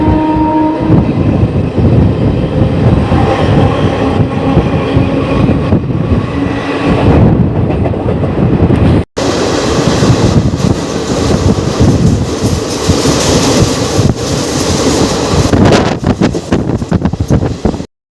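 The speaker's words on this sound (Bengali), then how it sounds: "জলেশ্বর হাওড়া লোকাল।" A Jaleswar–Howrah local train runs along the tracks with a loud, continuous rumble and rattle of rail cars, wind buffeting the microphone throughout, and a brief break midway before the steady clatter resumes.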